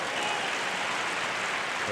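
Subdued crowd applause at a 2017 US Open tennis match between Roger Federer and Mikhail Youzhny: a steady, soft wash of clapping that stays level and muted for the whole moment, with no voices standing out.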